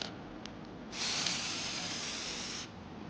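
A spray can laying a light coat on car trim: a brief puff, then a steady, close hiss lasting nearly two seconds before cutting off, in a quiet setting.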